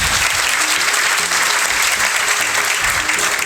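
An audience claps loudly and steadily at a ceremony celebrating an SSC GD selection into the BSF, a dense, close, continuous wash of applause with no gaps.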